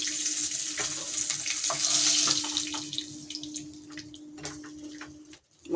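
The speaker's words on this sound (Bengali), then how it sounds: "মাছটা যে ভেজে তুলে রাখলাম লাল করে" Fish fries in hot oil in a covered pan on a low gas flame, a steady loud sizzle and crackle that tapers off near the end.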